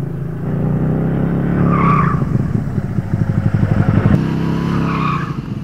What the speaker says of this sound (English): this tire right here locked up and started sliding the Spyder out